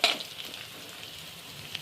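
Vegetables with chili powder and turmeric sauté in a hot pan, giving a faint, steady sizzle with light stirring scrapes, one sharper clink near the start and another near the end.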